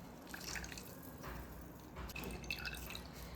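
Water drips and trickles as soaked mango is strained for homemade mango kasundi, a continuous wet splashing with brighter spatters, close by and fairly soft.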